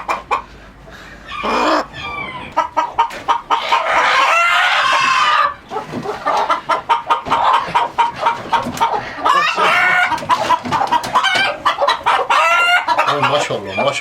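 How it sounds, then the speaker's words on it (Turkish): Chickens on a Turkish farm with newly moved chicks and turkeys: loud, close, continuous clucking and squawking from several birds, with rooster crowing breaking through now and then. "Bu da güzel bir tavuk."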